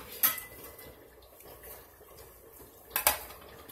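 Pot lid on a cooking pot: two sharp metallic clanks of the lid, one near the start and one near the end, over a faint kitchen background.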